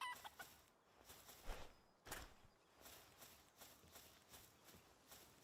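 A chicken clucks in the Palworld video game in quiet, irregular bursts, with soft rhythmic footstep-like taps alongside in the game soundscape.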